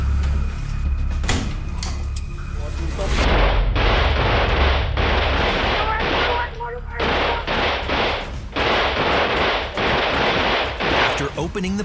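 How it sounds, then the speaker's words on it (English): Several loud, sharp gunshots crack in irregular bursts during a New Orleans police room-clearing operation, close and harsh, with a brief pause partway through. "the cops are confronted by gunfire"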